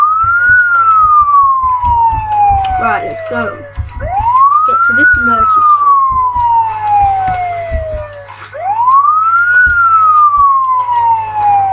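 A wailing fire engine siren rises and falls in long repeated sweeps, loud and close, with brief speech and clicks underneath.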